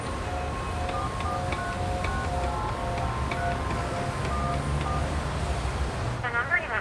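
Phone number dialed in the video game 13 Sentinels: Aegis Rim, a steady run of short touch-tone beeps in an even rhythm over quiet background music, ending with a brief electronic chirp.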